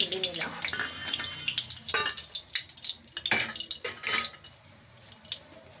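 Water lily stems frying in oil, an uneven close sizzle with bubbling bursts and small clinks as pieces go into the pan, a voice occasionally speaking over it.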